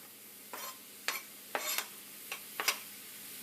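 Onions sizzle in a frying pan for Lebanese meat pies, a soft hiss broken by several short scraping stirs, quiet and close with no voices.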